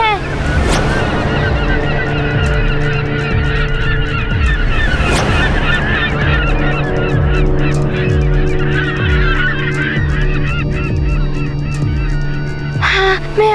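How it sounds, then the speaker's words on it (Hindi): Geese honk loudly and repeatedly close by, a dense overlapping flock calling continuously over a background wash of water. "वो देखो, वहाँ पे पक्षी दिखाई दे रहे हैं।"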